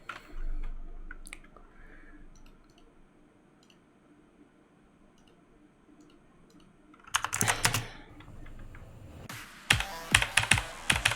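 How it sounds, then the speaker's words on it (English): Computer keyboard keys are pressed while playing a rhythm game: soft scattered clicks at first, then two dense bursts of rapid, loud keystrokes near the end; no talking. "the thing with playing on keyboard is just how far you have to press it down"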